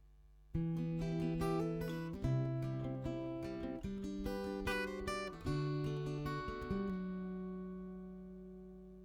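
An acoustic guitar strums a chord rhythm at a moderate pace, bright and full, ending on a final chord left to ring out and fade.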